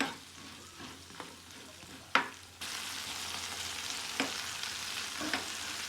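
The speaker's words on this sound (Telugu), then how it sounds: "మధ్యలో కలుపుకుంటూ మూత పెట్టేసి బాగా దొండకాయలు మగ్గనివ్వాలండి" Pieces of ivy gourd frying in a pan, a steady close sizzle with a few sharp scrapes and clicks of a stirring spoon, and the hiss growing louder partway through.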